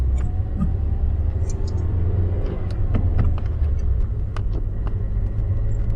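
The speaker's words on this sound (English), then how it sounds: "you push the clutch in, go into the next gear, and then slowly let off the clutch as you're giving it gas" The engine of a manual stick shift car rumbles steadily during upshifting, a constant low drone heard from inside with faint clicks and rattles on top.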